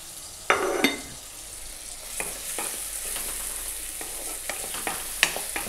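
Onions sautéing in oil for prawn thokku, a close steady sizzle broken by a clatter of ingredients going in early and intermittent spatula scrapes against the pan.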